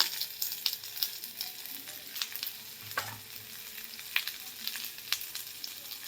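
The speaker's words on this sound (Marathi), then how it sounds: "थोडंसं तेल टाकलेलं आहे मी आणि मी कांदा जरा थोडासा भाजून घेणार आहे बघा मसाला करण्यासाठी." Onion sizzles and fries steadily in a little oil in a pan for a masala base, a continuous close crackle with occasional stirring clicks and no voices.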